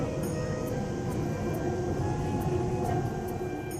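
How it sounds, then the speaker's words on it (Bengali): A Bangalore metro train runs steadily, its broad rumble and faint tonal whine continuing evenly throughout with no talk. "এই যে আমাদের মেট্রোও চলে এসেছে।"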